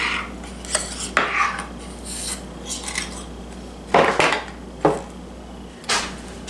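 A utensil swirls cream cheese through brownie batter, dragged back and forth to marble it, giving a few soft scraping strokes and light clinks against the bowl or pan, close and unaccompanied by speech.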